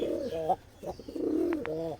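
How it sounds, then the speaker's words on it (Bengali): A giribaz pigeon, a feather-footed breed, coos from inside a large cage, giving several close, low rolling coos in short bursts with a couple of brief sharper sounds near the end. "খুব সুন্দর পায়রাটা"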